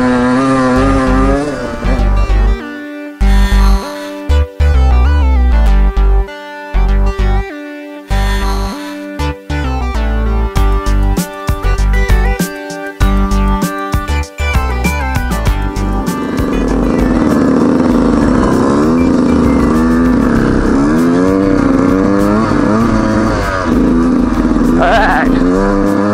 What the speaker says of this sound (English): We're on a Beta 125RR race edition.